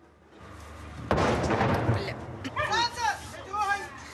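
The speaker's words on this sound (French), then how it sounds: "C'est notre artillerie, ça." Artillery fire in the war in Ukraine, a single heavy boom rolling out and echoing for seconds, followed by people talking nearby.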